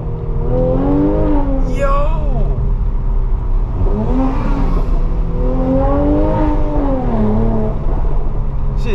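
A car engine revs loudly up and down in rising and falling sweeps, close and continuous with a Ferrari-like tone, while a man briefly calls out over it.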